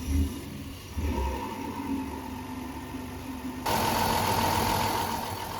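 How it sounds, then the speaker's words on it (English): Car engine idling rough with its EGR solenoid forced open, a steady mid-pitched drone with faint knocking that grows louder and harsher about two-thirds through, heard alone without talk. "when I force the solenoid open at idle, the engine clearly doesn't like it and starts to run very rough"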